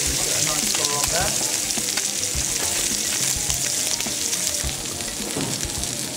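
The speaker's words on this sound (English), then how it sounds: "I'm just going to put the the scallop into the hot pan." A scallop sears in a hot pan, giving a steady, loud, crackling sizzle that fills the whole stretch, with faint spatters and no talking.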